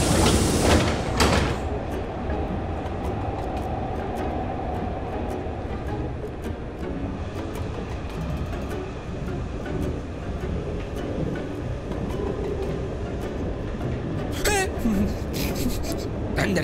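A metro train runs with a steady rumble and rattle throughout, opening with a loud hiss of sliding doors and ending in a burst of squealing and clanking, near and loud inside the carriage.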